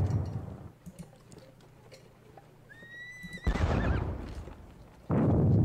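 A horse whinnies once in the Napoleonic Battles Leipzig wargame, a clear rising and falling neigh in the middle of quieter battlefield ambience, with bursts of louder rumbling noise before and after.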